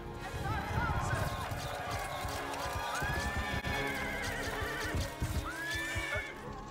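Horse whinnying repeatedly, with rising and falling neighs, over steady hoof clatter and busy movie-scene commotion, loud and close throughout.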